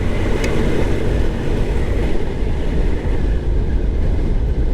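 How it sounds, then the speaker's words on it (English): A scooter engine at full throttle climbing a steep hill during a long-distance scooter rally, a loud, steady, dense roar that continues throughout. "This is steep. I'm going full throttle."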